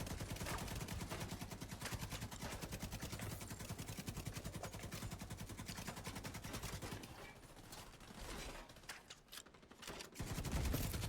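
Rapid, sustained automatic fire from the Pakhan exotic light machine gun in The Division 2, a dense, loud rattle of shots that pauses briefly and then resumes.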